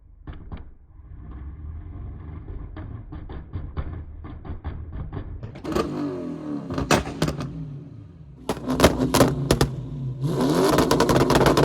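An Audi R8 sports car revs hard in a shop, its engine climbing through repeated throttle blips and sharp bursts, ending in a sustained loud roar nearby.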